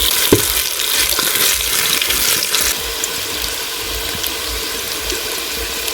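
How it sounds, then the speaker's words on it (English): Potato pieces fry in hot oil in a pot, a dense, loud, continuous sizzle with faint crackles, close up and without talking. "I'll add my potatoes in one by one."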